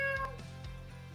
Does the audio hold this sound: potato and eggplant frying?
no